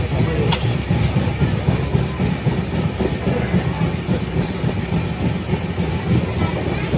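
The Cholan superfast express rolls along near Thanjavur Junction on the Chennai Egmore to Tiruchirappalli line, heard from on board as a continuous loud rumble of rail and wheel noise with faint clatter and a single sharp click early on.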